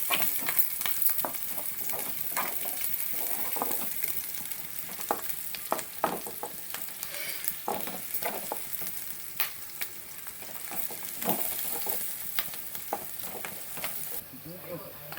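Onions and green chillies fry in a pan for mutton liver fry, a constant sizzle punctuated by repeated sharp scraping strokes of a spatula, with a voice faintly present at times.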